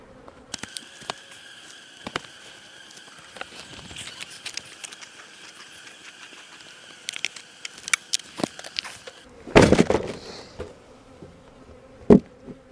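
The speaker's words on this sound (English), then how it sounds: "Bees are starting to come out of there." Honeybees buzz around hive boxes during a honey harvest, a steady close drone with scattered louder passes and bumps, loudest near the end.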